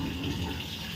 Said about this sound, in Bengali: ট্যাঙ্কির জল এত গরম আছে যে ভাতের জল আলাদা করে গরম করারই দরকার নেই, জাস্ট চালটা ধুয়ে দিয়ে দেবো এবারে।